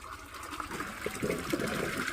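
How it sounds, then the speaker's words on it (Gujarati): Water gushing and splashing into a container from a well water pump motor, a continuous fairly quiet flow that builds slightly toward the end, with no talking. "આપણે મોટર ચાલુ કરી દીધી છે હા મોટર ચાલુ કરી દીધી"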